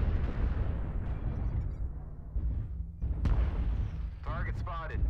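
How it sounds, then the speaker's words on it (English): Gunfire in the multiplayer war game Rising Storm during a team scrim, dense battlefield rumble with sharp shot cracks around the middle, mixed with voices talking over it. "he's shooting me"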